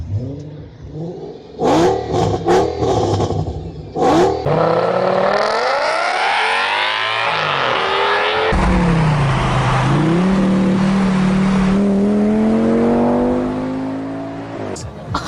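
A 2007 Audi S6 with a 5.2-liter V10 revs hard in a shop, the engine climbing and falling in long, loud sweeps before settling into a high steady drone, with someone speaking briefly at the start.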